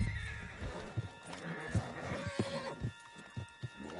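A horse in the game Red Dead Redemption 2 neighs and whinnies while hooves clip-clop in irregular beats, fairly close but quiet in the mix, with no talk.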